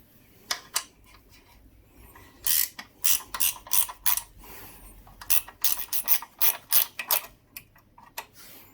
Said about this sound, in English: I'm going to have to undo the mudguard bolts first, and then we'll try and get in and get these undone.